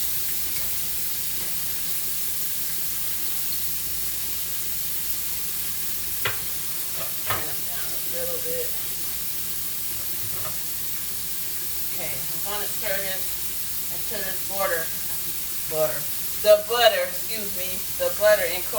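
Strips of pork chop sizzle steadily in a hot pan, a constant close frying hiss with occasional stirring scrapes and pops; a voice speaks intermittently over the sizzle.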